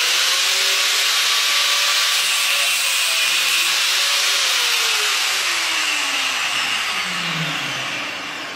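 A Guang Yu badminton racket frame is sawn through by hand, giving a steady, close rasping scrape that continues without pause before easing off near the end.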